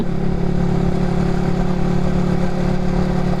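A Yamaha R15 V3 motorcycle carrying a pillion rider along a road under repair that is strewn with stones: a loud, steady engine drone with a low mechanical hum and rattle, close up and continuous, with no voices.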